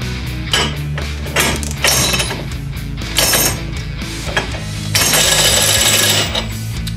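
A Ryobi extended reach ratchet wrench works on a tightened bolt, with rapid clicking ratchet bursts and mechanical clatter in short spurts, close and loud.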